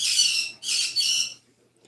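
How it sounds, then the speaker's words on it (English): Birds squawk loudly and close by in three harsh bursts, the last two in quick succession, before the sound drops to quiet. "the birds have all of the opinions about me actually trying to go live"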